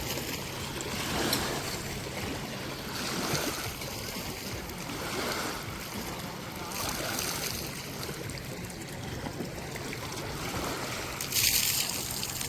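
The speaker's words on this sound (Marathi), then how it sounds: "लाटा बघा. लाटा मंडळी." Waves on the Narmada river near the Sardar Vallabhbhai Patel statue, a steady rushing wash of water with slow swells rising and falling every few seconds, with wind noise and no talking.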